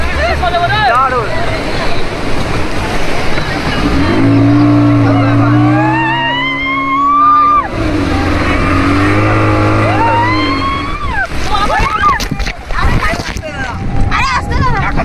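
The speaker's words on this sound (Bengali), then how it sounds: "চলো, আমাদের মোটর স্টার্ট দিয়ে দিয়েছে" A speedboat motor runs at sea off New Digha, its engine note rising and falling as the boat rides the waves, loud and close, mixed with wind and water and with people talking and shouting over it.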